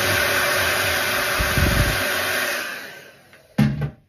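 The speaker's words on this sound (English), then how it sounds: "I just take my blow dryer and" Blow dryer blasting steady, loud broadband air to melt hardened mustache wax out of a comb onto a paper towel, cutting off near the end with a brief final burst.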